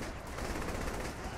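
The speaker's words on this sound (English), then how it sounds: "Leave some for me and my minigun." Continuous rapid minigun fire from Saints Row the Third, a dense unbroken roar of shots lasting just over a second, loud and close with no pause.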